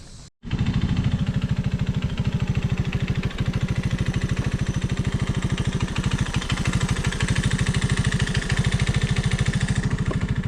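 A Honda ATC185 ATV engine idles steadily and close by, a rapid, even putter that runs on without a break once it starts, with no speech over it.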